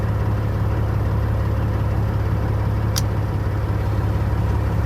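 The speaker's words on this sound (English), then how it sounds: "let me see what happens when I turn the fan on here" A vehicle engine runs steadily at idle with a constant low rumble and broadband fan whoosh, close and loud, with a single brief click near the middle and no talking.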